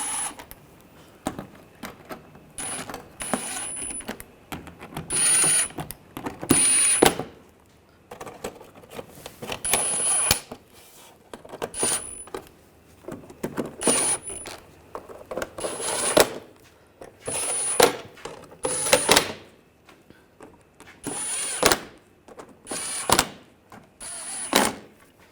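A ratchet or socket wrench clicks in repeated bursts while bolts are tightened down on a BMW 550i water pump, close and fairly crisp, with short pauses between runs of clicks.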